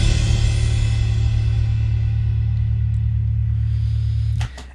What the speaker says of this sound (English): I also added a cymbal and introduced the bass guitar, a detuned bass guitar